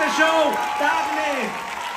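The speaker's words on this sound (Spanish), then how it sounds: "Pasen para que les aplaudan." A theatre audience applauds the costume and wig crew at the 100th performance of the stage show "El mago", with loud, steady clapping mixed with cheers, whoops and voices calling out over it.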